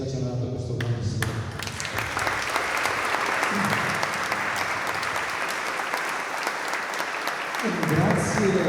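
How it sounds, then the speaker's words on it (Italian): Audience applause at an evening community event about living with Parkinson's, a steady wash of clapping from a crowd that swells again near the end, with voices murmuring underneath. "E per questo veramente un grandissimo applauso a Simone, a Corale, a tutti veramente quelli"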